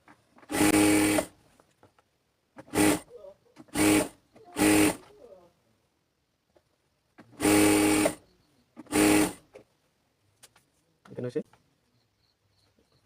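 Sewing machine stitching pajama pants in short separate bursts, loud close whirring runs of about a second each with quiet gaps between, and faint talk in the pauses.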